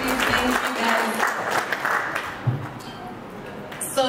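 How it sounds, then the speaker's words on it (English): Guests at an engagement dinner in Western Australia clap for the couple, a short burst of applause mixed with talking and a few cheers in a lively room. "Can we clap for us?"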